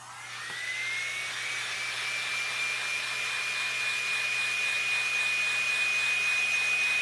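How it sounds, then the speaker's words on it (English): A heat gun blows on a large painted crown box, a steady whirring fan and airy hiss that rises quickly at the start and then holds a constant high whine for several seconds, with no talk. "I'm gonna take a heat gun."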